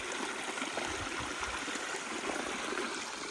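Clear spring water flows steadily in woodland on a Vermont stretch of the Appalachian Trail, a continuous close trickle and babble with no other sounds.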